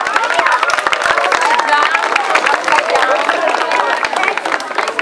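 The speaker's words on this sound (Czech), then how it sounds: "Paráda, zatleskejte si." An audience in a Czech MasterChef-style cooking contest bursts into steady, dense applause with clapping and cheering, continuous and loud throughout, with voices mixed into the crowd noise.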